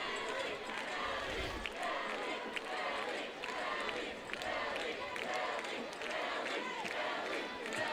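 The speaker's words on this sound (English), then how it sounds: "Crowd chanting" Crowd noise from the stands at a high school football game, Beauregard at Sylacauga, a distant, steady rumble of rhythmic chanting and cheering under faint commentary.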